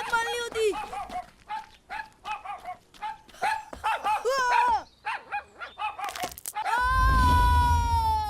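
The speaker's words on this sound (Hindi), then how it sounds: "ये कुत्ता तो मेरे पीछे ही लग गया।" A dog barks in rapid, repeated bursts while chasing a person, mixed with excited voices. A loud rushing, roaring burst takes over near the end.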